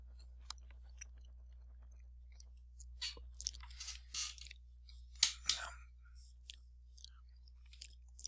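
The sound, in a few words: person chewing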